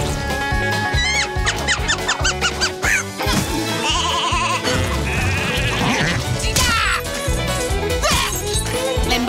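A goat bleats in a scene from the cartoon Big City Greens over dense music and sound effects, the calls loud and repeated among busy layered background audio.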